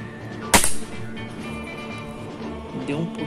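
A single sharp rifle shot from a Rossi air rifle being sighted in through its scope, a near, loud crack that fades quickly into a quiet outdoor background.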